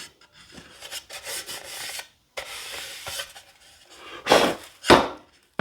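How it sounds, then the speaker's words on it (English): 120 grit sandpaper rasps along an edge in several rough rubbing strokes with short pauses between them, ending in two louder, sharper passes up close. "just go along this edge one time just to rough it up with this 120 grit"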